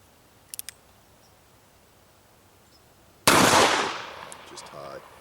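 One sharp, loud gunshot from a Smith & Wesson 686 Plus revolver firing .357 Magnum +P ammunition outdoors, cracking suddenly after a quiet stretch and trailing off in a decaying echo, preceded by a few faint clicks.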